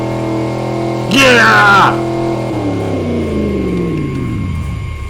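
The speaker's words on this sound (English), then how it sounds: "Here's what it looks like when you rev it up." A 1967 Shelby Cobra's engine revs up, its rising whine peaking briefly before the rumble slowly winds back down to a steady idle hum, close and loud, with one short shout over it.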